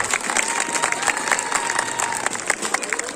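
A school annual-day audience claps for prize-winning children, a dense, steady patter of many hands filling the hall for a few seconds with some crowd noise underneath.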